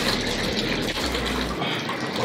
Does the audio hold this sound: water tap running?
yes